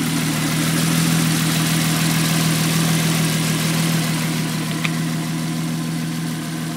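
A Renault 5 Maxi replica car engine, running rich, idles steadily and close, a low throbbing hum with a constant even pulse and no talk over it.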